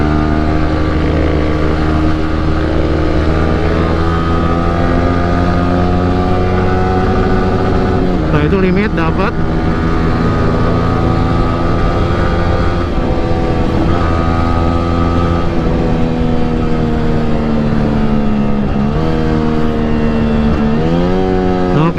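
Yamaha R15 V3 motorcycle fitted with a Tridente F22 aftermarket exhaust, a loud continuous engine drone rising and falling in pitch as it is revved and held, with someone talking briefly over it.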